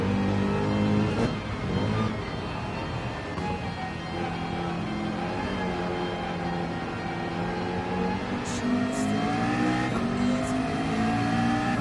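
Race car engine roaring steadily during a race at the Ring, revving and shifting with continuous loud drone and some tire squeal.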